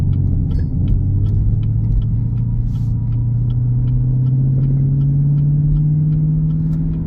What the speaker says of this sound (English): going for a quick test drive.